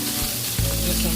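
Fish fries in a hot pan with a loud, continuous sizzle, briefly swelling with a sharper crackle partway through.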